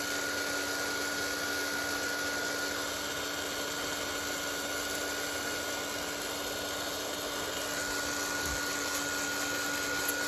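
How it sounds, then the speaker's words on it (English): Steady, loud whirring blow of a heat tool drying gesso-coated paper, a constant fan drone with a fixed hum running unbroken throughout. "dry it now with my heat tool"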